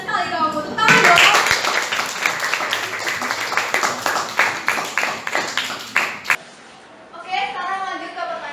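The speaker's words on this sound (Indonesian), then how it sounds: "Tepuk tangan dong." Audience applause at a festival event, a dense burst of clapping starting abruptly and running for several seconds before cutting off, then a voice speaks briefly.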